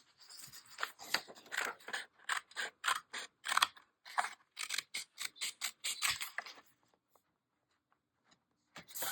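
Scissors cut off part of an old vintage card in a quick run of about two dozen crisp snips close by, then a pause near the end with nothing but quiet.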